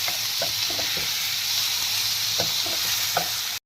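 Tomatoes and green chillies frying in a pot for a mutton handi, a steady close sizzle with repeated scraping stir strokes throughout and no talk.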